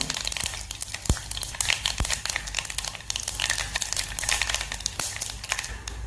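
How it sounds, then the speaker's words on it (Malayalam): Mustard seeds pop and crackle in hot coconut oil while a dried prawn and jackfruit seed curry is tempered, giving dense, continuous sizzling with scattered sharp snaps up close. "കടുക് പൊട്ടി വന്നിട്ടുണ്ട്"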